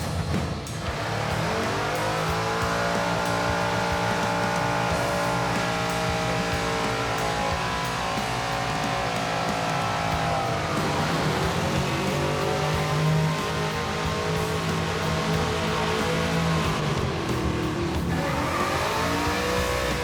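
A Ford Fairmont's engine drones steadily while cruising, with a continuous loud road-car hum whose pitch rises and falls through gear and speed changes, heard from inside the car without talk.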